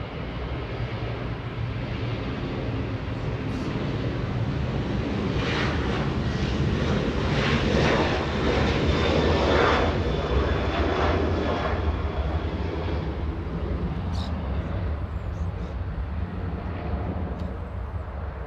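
A Southwest Boeing 737, six years old, departs LAX with a loud, sustained jet engine roar that swells in the middle and then eases slightly, steady and broad throughout with no talking.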